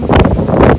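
Strong wind as an arcus cloud of a supercell thunderstorm passes near Bordeaux buffets the microphone in a loud, continuous rumbling gust, close and blustery, with no voices.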